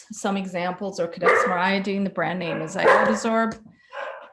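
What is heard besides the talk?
dog barking in the background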